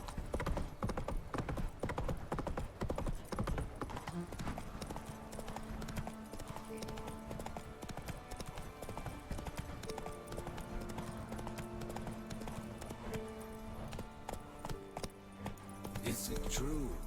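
Hooves of Roach, Geralt's horse in The Witcher 3, clip-clop steadily at a trot against a busy game soundtrack of music and ambience, with someone talking over parts of it.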